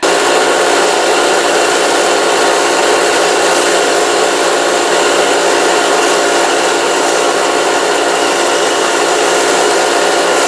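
Steady, loud abrasive whine of a 2x72 slack-belt grinder finishing a leaf spring Bowie knife, continuous and unbroken with a harsh hiss for the whole stretch and no talking.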